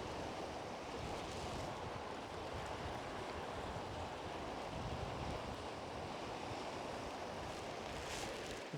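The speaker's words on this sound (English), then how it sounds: "That wind's really gusting up now." Steady gusting wind buffets the microphone outdoors beside a New Zealand river during fly fishing, a continuous broad roar with no pauses, loud and close, no one talking.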